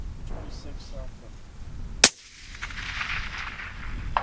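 A suppressed rifle chambered in 26 PRC fires a single loud crack at long range, followed by a rolling decay and hiss, over outdoor background noise with faint voices before it.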